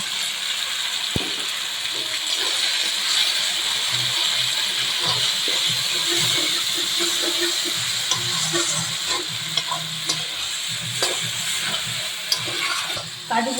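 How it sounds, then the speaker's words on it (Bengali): A thick poppy seed and cashew paste sizzles and spatters steadily in a hot pan while a spoon stirs it, with scraping sounds over the continuous frying hiss. "পোস্ত দিয়ে সুন্দর করে ভেজে নিয়েছি মশলাটা"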